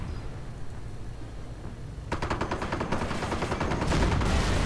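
Rapid gunfire and machine-gun bursts from a World War II strategy game, including an MG42 and a Bofors gun, start after a quiet stretch and build into a dense, continuous clatter of shots.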